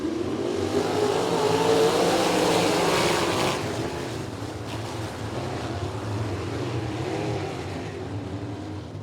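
Sprint cars at Lincoln Park Speedway roar off the start of a heat race, a dense, loud wall of engine noise that swells, then eases slightly as the pack moves on.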